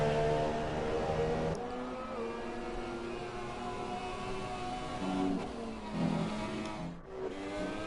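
A Ferrari Formula 3 race car heads out on track at a Hungary pre-season trial race, its engine note a distant, quiet whine that rises and falls through gear changes.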